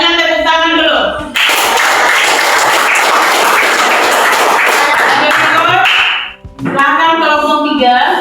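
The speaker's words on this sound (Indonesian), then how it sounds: "Bagus, semuanya tepuk tangan dulu." In a school classroom during group presentations, students clap together in a loud, dense burst lasting about five seconds, with a voice speaking just before and again right after the clapping stops.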